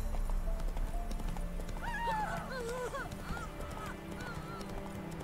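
Horse hooves clip-clopping in The Witcher 3: Wild Hunt, with a neighing whinny rising midway over steady game ambience and background sound.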